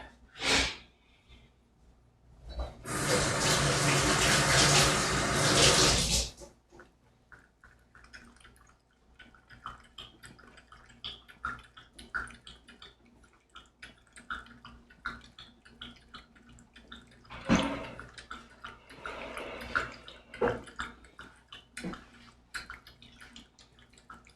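A tap runs to refill a drinking cup with a loud, close gush that lasts about three seconds. Quiet handling sounds, soft drips and breathing follow in a calm room.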